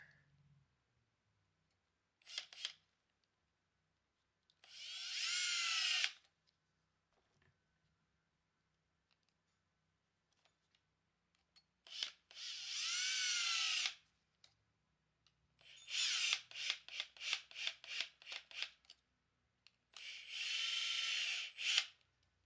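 A power tool drives screws into the rear bumper of an Arrma Granite RC car, being upgraded to an Arrma Big Rock bumper: several separate bursts of whirring drill, one a quick run of short stuttering pulses, close and loud with quiet gaps between.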